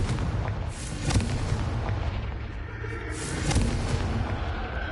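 Booming blasts of the Confringo fire spell in the game Hogwarts Legacy, heavy explosive thumps rising out of a loud, continuous rumbling roar of combat, close and dense.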